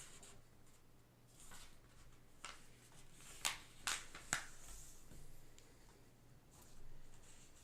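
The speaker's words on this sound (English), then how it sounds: "so for our first fold, we're going to fold it diagonally down" A standard 8.5 by 11 inch sheet of paper being folded diagonally from a corner for a paper airplane, with soft rustling and a few sharp crinkling creases, close and fairly quiet.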